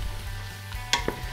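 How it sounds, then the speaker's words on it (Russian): Bacon sizzles softly in a pot as it renders for Polish bigos, a low continuous crackle with a couple of sharp clinks from stirring. "Так что бекон тоже отправляю в кастрюлю"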